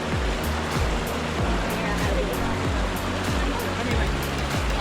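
Waterfall in a gorge roars loud and continuous from nearby, a dense unbroken rush of falling water with no voices.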